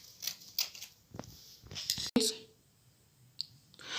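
Scissors snip through black fabric being cut into band pieces for a DIY T-shirt, giving a series of short, crisp clicks and cuts, some close and distinct, with quiet gaps between them.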